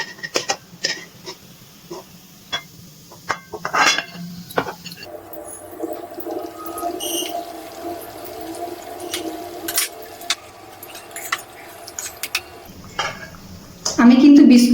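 Fried homemade semolina-and-milk biscuits are scooped from hot oil in a pan, with scattered metallic clinks of the utensil against the pan and a steady sizzle in the middle stretch, under intermittent talk.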